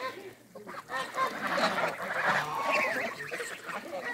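Several geese honk on a village farm, their loud, overlapping nasal calls running almost continuously and close by, with no talk.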